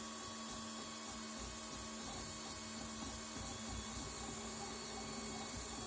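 A GeeeTech A10M single-color 3D printer runs a fast print at 2500 mm/s acceleration and 60 mm/s, giving a steady whirring, buzzing stepper-motor drone with rapid rhythmic movement noises, close and continuous.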